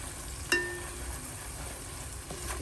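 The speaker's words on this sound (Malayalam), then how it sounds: "പച്ചമുളക് നമ്മൾ ഒന്നും കൂടെ വഴറ്റും" Green chilies fry in a pan for chicken biryani with a soft, continuous sizzle, marked by one sharp clink of a utensil early on and a light scrape near the end.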